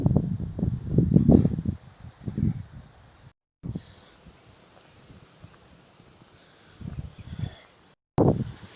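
Gusty wind buffeting the microphone on a hillside walk near Devil's Rock above Todmorden, loud rumbling bursts at the start that ease into quieter rustling, with brief dropouts and renewed gusts at the end.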